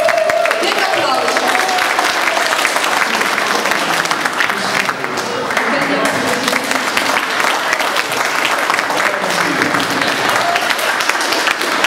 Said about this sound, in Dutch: Dik applaus.